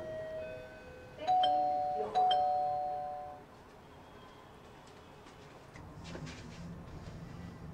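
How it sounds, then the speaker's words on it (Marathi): A two-tone doorbell chime rings twice in quick succession, clear and fairly loud indoors, then fades into quiet room noise with a few faint knocks. "बेल बजा के भाग रहे हो?"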